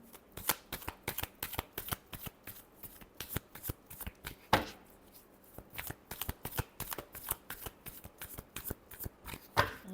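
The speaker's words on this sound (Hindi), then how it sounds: "Last shuffle." Tarot cards are shuffled by hand in quick repeated riffles and flicks, crisp and close, forming a steady run of sharp papery bursts with brief pauses and no talk.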